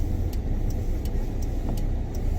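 Used Kia Bongo 3 truck driving on the road, with a steady low engine and road rumble continuing evenly from start to end, with faint high ticks above it.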